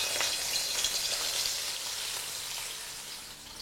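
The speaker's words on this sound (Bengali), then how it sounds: "এবার এই একইভাবে আমি বাকি সবকটা মাছই ভেজে নিচ্ছি।" Katla fish pieces frying in hot oil give a steady, dense sizzle that holds evenly throughout, close and moderately loud with no voices.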